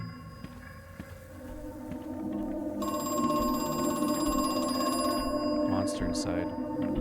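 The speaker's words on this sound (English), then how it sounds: "Another phone ringing." A telephone rings in the horror video game Crow Country, a steady electronic ring rising over ambient game sounds and a voice talking through most of it.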